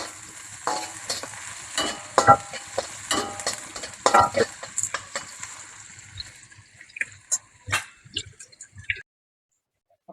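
Onions and lemongrass being sautéed in a pan, a spatula scraping and tossing them in irregular close strokes over a light sizzle, the stirring thinning toward the end before falling silent.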